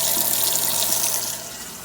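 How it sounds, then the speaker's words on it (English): Tap water runs into a kitchen sink fitted with a newly installed garbage disposal, a close, steady splashing stream that eases slightly near the end. "Okay, we're running water."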